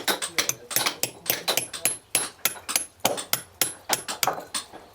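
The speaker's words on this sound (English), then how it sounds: "Lift the chisel a bit, just like that." At Guédelon castle, a hammer drives a steel chisel into stone in a steady run of sharp, ringing metallic strikes, close and loud, a few per second.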